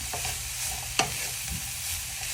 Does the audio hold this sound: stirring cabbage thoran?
yes